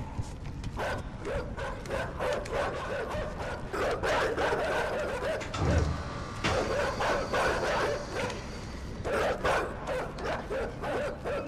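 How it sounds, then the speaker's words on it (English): Guard dogs bark repeatedly in the video game INSIDE, a steady stream of loud, close barks and yips with brief whimpers, layered over a dense game soundscape with no talking. "Just keep barking, ain't gonna do any good."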